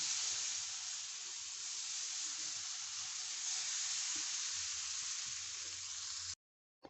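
Gram flour (besan) cooks in a pan for Gujarati halwa, producing a steady soft sizzling hiss for several seconds that cuts off abruptly near the end.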